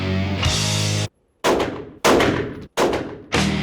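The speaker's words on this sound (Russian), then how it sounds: "Кольт М1911. Полуавтомат. Полицейский ствол разрешен гражданским. Сняла с предохранителя. Бум-бум-бум." A Colt M1911 semi-automatic pistol fires four loud, sharp shots in quick succession, each report followed by a decaying tail, with brief silent gaps between them.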